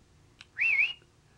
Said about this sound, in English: that's what you do. You just whistle this.